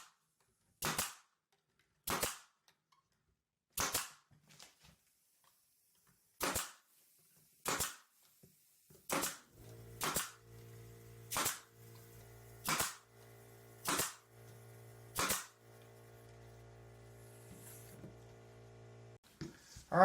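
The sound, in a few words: staple gun firing 18 gauge staples into frames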